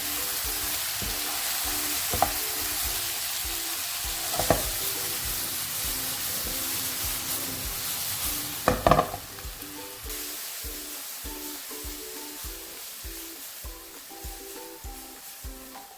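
Steak side vegetables with curry powder and mixed herbs sizzle loudly in a pan, a constant hiss broken by a few sharp utensil scrapes and clinks as everything is stirred.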